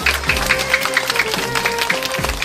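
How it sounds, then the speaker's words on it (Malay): A crowd claps for the contestants at the winners' announcement of an MTQ Gempita Muharram Quran recitation competition, a short burst of steady applause with music playing underneath. "Berikan tepuk tangan kepada peserta."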